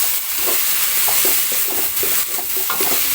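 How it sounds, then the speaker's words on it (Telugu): Spiced masala of coriander powder sizzles in a pan for an old-style fish curry while a spoon stirs it. The scraping strokes repeat rhythmically over a constant frying hiss. "పచ్చివాసన ఉండకుండా బాగా ఫ్రై చేసుకోవాలి"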